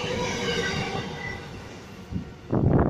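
A CF-class diesel locomotive passes through a station in Sydney, a loud steady rumble of wheels and rail noise with a sharp surge of louder engine and wheel sound near the end; no talk.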